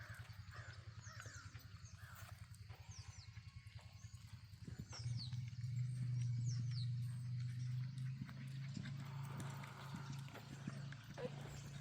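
Horses canter during a riding lesson. Soft, rhythmic hoofbeats thud steadily at a distance, then a low droning hum rises beneath them, all faint.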